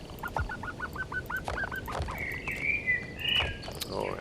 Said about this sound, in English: we can hear the birds chirping.